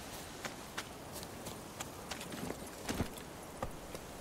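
Hooves of a ridden horse in The Witcher 3 clop in a steady rhythmic gait, fairly faint and evenly spaced over a quiet ambient bed.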